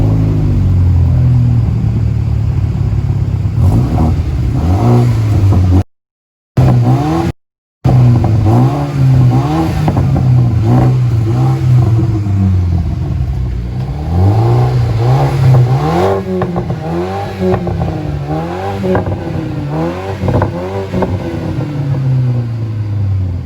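Stock exhaust of a BMW F30 328i revving repeatedly, deep rumbling rises and falls in a steady rhythm close by, with two brief cuts to silence early on.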